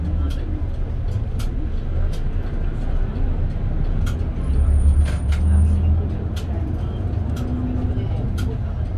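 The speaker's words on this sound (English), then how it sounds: "Please remain seated until the bus makes the complete stop." Daishinto city bus running through traffic, a steady low engine and road rumble with a brief louder surge and a short high hiss of air brakes as it slows, under a recorded announcement.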